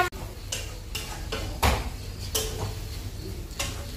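Food being stirred in a pot during outdoor night cooking in a forest near Bangalore, with repeated scraping strokes of the utensil against the metal at a steady, unhurried rhythm, close and fairly clear.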